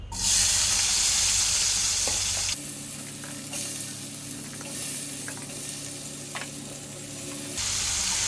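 Continuous loud frying sizzle from a pan of ivy gourd, shifting in intensity as it is stirred, with occasional clinks.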